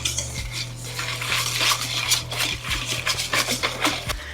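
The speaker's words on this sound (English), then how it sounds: "then whisk that together until it's combined" A utensil clinks and scrapes rapidly against a bowl while baking ingredients, including espresso, are whisked for chocolate mocha banana bread; the tapping is close and busy, with no talking.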